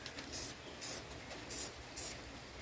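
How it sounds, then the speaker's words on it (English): Four short hissing bursts from a spray paint can painting fishing lures, evenly spaced, each about a quarter second long, close by with quiet room tone between. "I got my spray paint out that I want to use"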